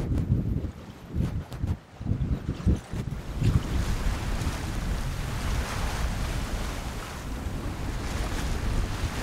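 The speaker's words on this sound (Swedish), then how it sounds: "Det blåser som 17 idag och det blåste ännu mer där vid land." Strong wind at sea aboard a sailboat along the Atlantic coast, a steady broadband rush with buffeting gusts and choppy thumps early on, no voices.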